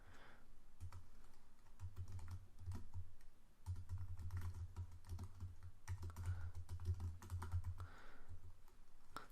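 Soft, quiet typing on a computer keyboard, with bursts of rapid keystrokes separated by short pauses and no talking.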